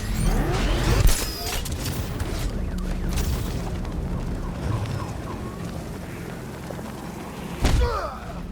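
Heavy booms and explosions from the Batmobile tank firing in Batman: Arkham Knight, with a sustained rumbling battle din between two strong blasts about six seconds apart, under distant shouting and siren-like wails.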